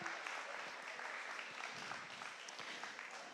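Participants at the end of a mindfulness session applaud, a soft, continuous patter of many hands that sounds faint and distant throughout.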